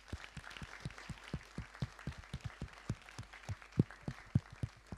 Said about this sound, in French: Un applaudissement pour eux, s'il vous plaît.